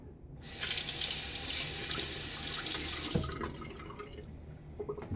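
Safety razor blade rinsed under a running bathroom tap: a steady, fairly loud rush of water for about three seconds, then the flow stops, leaving drips and small clinks nearby.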